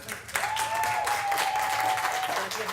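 An audience at a talk bursts into warm applause, a dense steady clapping that swells and holds close and loud for a couple of seconds, with a thin tone sustained above it.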